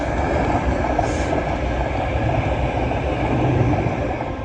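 Class 700 train 700.011 passing through a North London station, a steady loud rolling rumble with faint wheel clatter sustained throughout.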